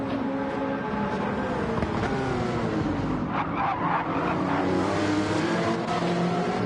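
Racing cars in the Gran Turismo video game, a Porsche among them, drone steadily with layered engine tones that rise and fall as they battle close together, loud and continuous with no talk.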